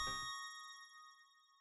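A ringing ding sound effect from the video game Corpse Party: Blood Drive, one bright struck tone whose sustained high overtones linger and slowly fade after a short low thud at the onset.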